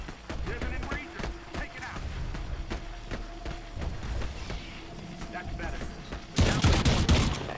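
Shotgun blasts ring out during Earthfall gameplay amid a busy firefight, repeated shots and clattering effects throughout, building to a loud dense burst of fire near the end, with voices talking over the action.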